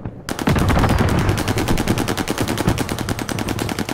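Rapid automatic SCG gunfire from a video game, a steady stream of close, loud shots firing continuously with no pauses and no talking.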